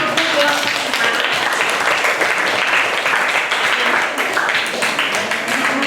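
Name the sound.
classroom applause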